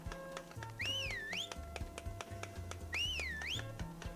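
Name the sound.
whistling note in video game Harvest Moon: Magical Melody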